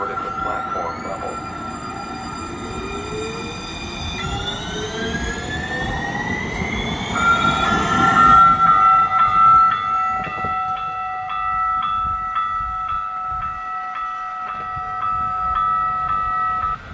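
A low-floor Sacramento light rail train pulls into the station, its electric motors whining in rising tones over steady rumbling and rail noise, with station announcement chimes and a spoken announcement in the background.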